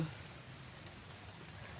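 Steady rain falls outdoors while people look for shelter, a soft continuous hiss of drops that holds evenly through the whole stretch without any break.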